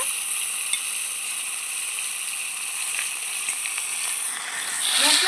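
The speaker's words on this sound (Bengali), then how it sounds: "শুকনো লঙ্কা ফোড়ন দিয়ে দিচ্ছি গোটা জিরে জিরে বাটা দিয়ে দিচ্ছি ধনে বাটা আদা বাটা" Dried red chillies, whole cumin and ground cumin, coriander and ginger pastes sizzle in hot oil, giving a steady close hiss that grows louder and rougher toward the end as more paste goes in.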